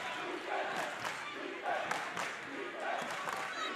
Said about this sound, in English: The crowd cheering defense.